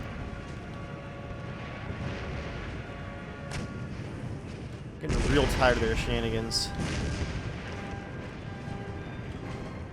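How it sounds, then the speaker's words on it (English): Cannon artillery in an Empire: Total War battle, a heavy booming volley landing midway through a constant battlefield rumble, while someone talks over the game. "All cannons, focus on their cannons for a minute."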